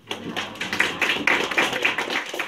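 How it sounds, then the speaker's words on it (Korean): A brief round of clapping from a small audience at a student mock six-party talks session, a quick cluster of distinct, close hand claps that rises, holds for a couple of seconds, then fades. "마지막 발언이니까 박수 한번 치시니까요."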